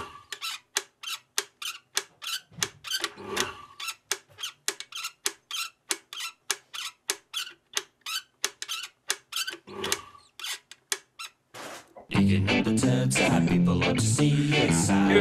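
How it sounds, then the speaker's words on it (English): A blender knob squeaks in a long run of short, regular creaks, each one sharp and close, before a dense burst of music-like noise takes over for the last few seconds. "He called it Squeaky Blender Knob."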